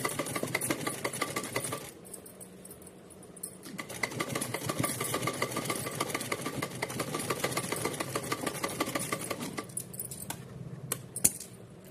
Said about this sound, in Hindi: एक बार और सिलाई लगा लेते हैं पक्का करते हुए।